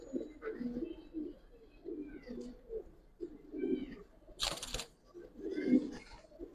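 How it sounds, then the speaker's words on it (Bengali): A Giribaz pigeon gives repeated low, burbling coos close up in a steady series of short phrases, with a brief sharp rustle partway through. "এটা একটা মাদি কবুতর।"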